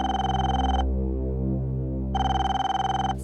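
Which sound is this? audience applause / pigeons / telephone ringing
telephone ringing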